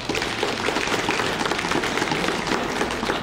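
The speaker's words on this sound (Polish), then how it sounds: "dla was także oklaski" An assembled audience of students and staff at a school ceremony claps in dense, sustained applause, loud and close, filling the room without any speech.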